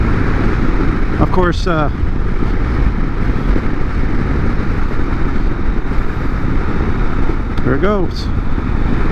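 Honda CB750 Nighthawk motorcycle riding and lane splitting through traffic, a steady engine and wind roar running throughout, with a brief spoken remark over it.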